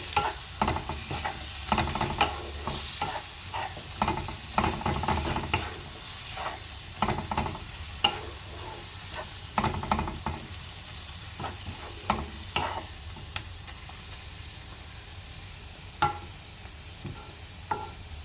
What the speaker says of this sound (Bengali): অ্যাড করে দিলাম কাশ্মীরি রেড চিলি পাউডার এরপরে মশলাগুলোকে ভালোভাবে একসাথে মিশিয়ে